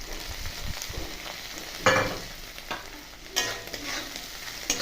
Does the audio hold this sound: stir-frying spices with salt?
yes